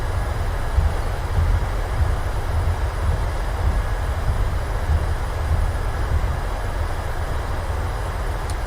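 Boeing 737-700 on landing rollout in a flight simulator, thrust reversers deployed: a steady, loud roaring rush with deep low rumble, continuous throughout with no talk.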